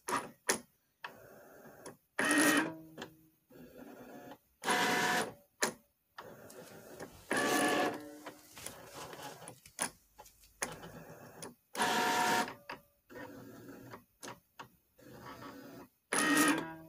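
Cricut Maker 3 cutting machine running near a window, with intermittent bursts of motor whirring and carriage movement separated by short quiet gaps, close and moderately loud.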